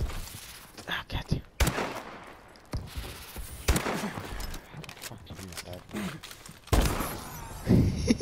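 Gunfire in Call of Duty: Advanced Warfare crackles in several sharp bursts and scattered single shots, with a voice talking over the game throughout.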